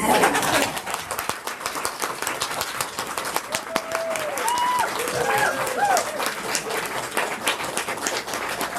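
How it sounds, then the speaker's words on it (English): A round of applause at a book launch party, clapping at the start and fading into scattered claps while pigeons coo nearby and voices chatter in the background. "Let's have one more round of applause."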